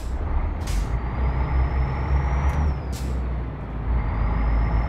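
Truck air brakes in a trucking video game hiss sharply in several bursts over a steady low engine rumble, with a faint rising tone between them.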